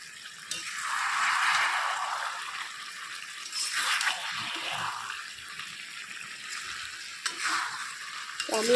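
Small tengra fish chorchori with green chillies frying in mustard oil: a steady, close sizzle that swells and eases in waves, with light stirring scrapes throughout and no talking.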